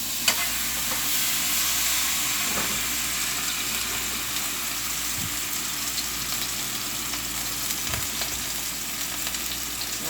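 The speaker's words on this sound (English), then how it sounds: "And I'm going to put it to fry." Beef steaks fry in a hot pan with a steady, dense sizzle that carries on for the whole stretch, broken now and then by a few brief pops.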